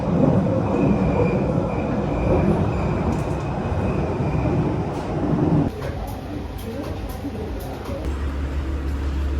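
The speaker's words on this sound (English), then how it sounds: "The next station is Elephant and Castle, where this train terminates." A London Underground carriage in motion gives a loud, steady rumble and rattle of wheels on rail. Partway through the roar drops and a faint high whine comes in, with a recorded announcement voice over the noise.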